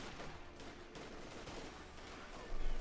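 Rifle fire crackles through a Company of Heroes 2 battle, a dense spread of sharp shots and distant gunfire over a steady war-game backdrop, with a heavier burst near the end.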